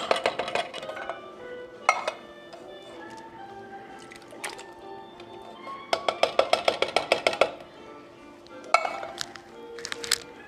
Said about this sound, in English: Add in our fire roasted tomatoes.